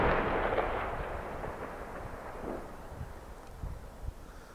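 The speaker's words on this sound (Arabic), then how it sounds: "قصف مدفعي من حواز النظام على مدينة اللطام بريف حماة الشمالي" Artillery shelling strikes the town of Al-Lataminah in the northern Hama countryside, heard as a deep, distant boom that rolls and slowly decays outdoors, followed by faint further thuds and some wind noise.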